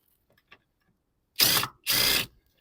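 Two short bursts of a socket ratchet loosening 13 mm nuts on a 2023 Nissan Qashqai while reaching the ABS sensor, close and clearly audible after a brief pause, with a faint click beforehand.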